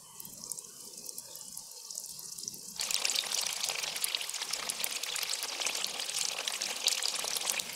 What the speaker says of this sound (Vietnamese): Cho chả dầu vào chiên lần một khoảng 160 độ C